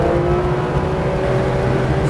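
Porsche 911 GT3 RS pulling hard at full throttle on the Sonoma track, its engine a steady, dense roar that holds throughout with no voices over it.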